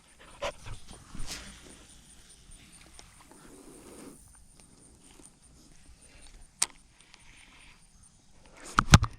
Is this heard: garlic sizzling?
no